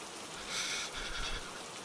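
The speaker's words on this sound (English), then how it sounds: "And as soon as I go out and adventure, it starts to rain." Rain falling in the video game Hurtworld, a soft continuous hiss of rainfall at low level with gentle swells in intensity.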